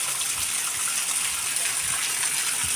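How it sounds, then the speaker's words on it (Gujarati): A steady, loud rush of a river in flood after overnight rain, broad and constant, with no pauses for the whole stretch. "નદી ચાલતી થઈ ગઈ છે જોવો મિત્રો"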